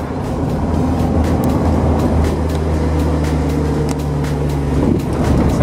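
A Mazda MX5 drives down through the citadel at Namur, Belgium, with a steady, close engine hum and road rumble throughout and no talking.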